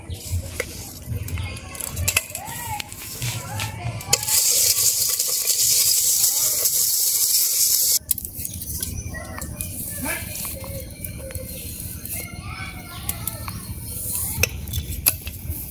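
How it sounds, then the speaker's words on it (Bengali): Paddy roasts in a pan at a home Lakshmi puja, a dry, hissing rustle that swells loudly for a few seconds amid clinks of utensils, with people talking over it. "ধান এই যে ভাজতেছে"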